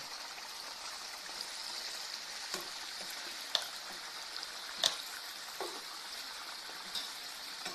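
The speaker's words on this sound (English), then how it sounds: "my potatoes are cooking, but also the onions are cooking at the same time" Potatoes and onions cooking together in a skillet make a continuous, moderate sizzle, with a few sharp crackles and pops scattered throughout.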